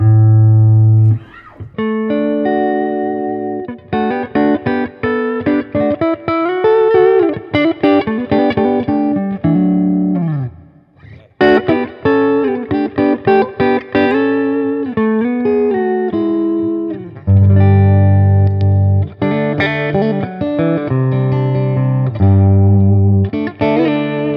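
Electric guitar played through a Boss Katana 50 amp with plate reverb, loud distorted chords and single notes ringing out with a lingering wash of reverb tails between phrases.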